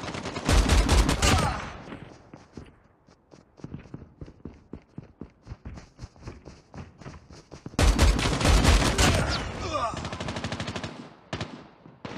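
Rapid automatic gunfire from the XS1 Goliath in the mobile game Call of Duty Mobile rattles in two long, loud bursts with choppier firing between them.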